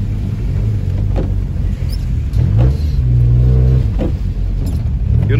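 A 1.6 Honda car engine being revved in loud, close bursts, with several rising throttle blips and surging tones over a constant low rumble, no talking.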